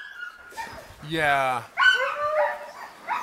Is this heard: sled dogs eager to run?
yes